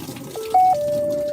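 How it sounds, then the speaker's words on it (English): Steady water flowing into the drum of a Maytag Bravo XL top-load washer, a continuous close hiss with a thin whistling tone, heard alone without talk. "we have a steady water flow"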